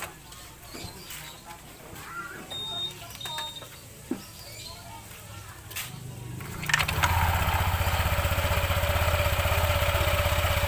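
Motorcycle engine started and idling after a clutch spring and center spring replacement, a loud steady rhythmic putter rising abruptly after quieter background sounds with someone talking beforehand.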